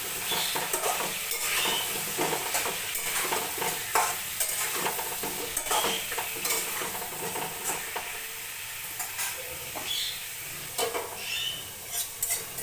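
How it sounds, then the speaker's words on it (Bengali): Black cumin (kalo jeera) dry roasted in a pan for a Bengali sim bata, with repeated rhythmic scraping and stirring strokes against the metal over a faint crackle, close by and fairly soft, no speech. "শুকনো করে ভালো করে কালো জিরাটাকে ভেজে নিচ্ছি।"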